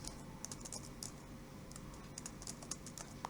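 Rapid, quiet keystrokes on a computer keyboard as an email address is typed, clicking in uneven bursts for a few seconds with no talk.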